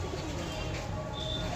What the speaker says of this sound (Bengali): তো গাইস দেখুন পায়রাটা